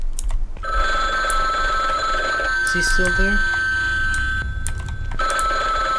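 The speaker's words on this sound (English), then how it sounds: "Where does the ringing come from?" A telephone bell rings in a horror video game set in a laundromat, a bright repeated ring in bursts across the clip while someone speaks briefly over it.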